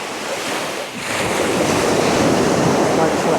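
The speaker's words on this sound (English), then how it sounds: "Still beautiful to be by the ocean" Ocean waves breaking on a cold shore on Bruny Island, Tasmania, a broad continuous roar of surf with wind buffeting the microphone, quieter at first then building to a loud, steady rush.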